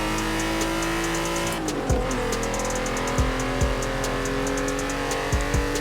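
Engine of an MK4 Volkswagen Golf R32 in Forza Horizon 4, a steady droning hum with harmonic whine and periodic gear-change dips, plus intake filter noise, fairly loud and continuous with no talk.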